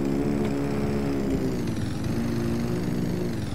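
A dirt bike engine in Farming Simulator 22 drones steadily in a buzzing, high-revving tone like a light two-stroke, holding constant and loud throughout with slight pitch wavers and no speech.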